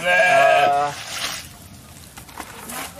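A goat gives a single clear bleat up close at the start, fading into quieter rustling and faint background noise.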